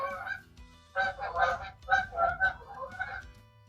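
Geese honk repeatedly in a noisy series of nasal calls, fairly close and loud, in overlapping bursts with no talking.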